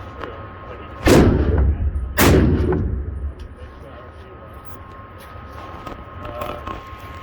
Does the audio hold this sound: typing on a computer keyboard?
no